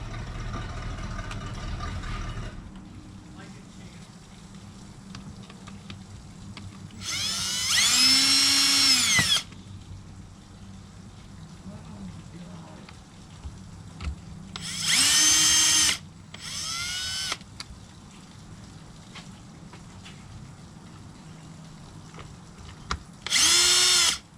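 Power tool tightening a part on a 2002 WRX during a JDM conversion, heard in three loud, high-pitched whirring bursts of a second or two each, separated by quiet stretches of faint shop noise.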